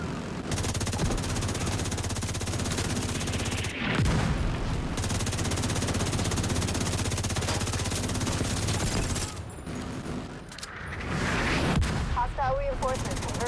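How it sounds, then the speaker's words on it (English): Autocannon in the shooter game The Division 2 firing blind through smoke: a dense, continuous mechanical barrage of rapid shots with occasional heavier bursts, loud and unbroken with brief gaps. "The autocannon seems to be firing blind."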